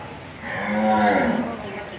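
Lowing of water buffalo or cattle at a crowded livestock market, a single drawn-out moo swelling and fading over about a second, fairly close and loud above a murmur of crowd noise.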